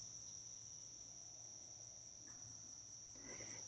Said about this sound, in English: listening to Mother Nature. Crickets and the birds.